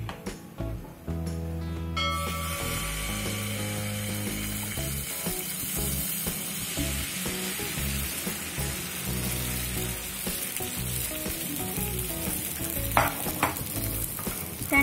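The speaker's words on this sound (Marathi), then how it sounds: "आता तवा थोडा गरम झाला की त्यात आपण हे बॅटर टाकू" Dosa batter for a pizza dosa sizzles on a hot tawa, a loud continuous frying hiss with stirring scrapes and faint clicks running steadily throughout, no voices over it.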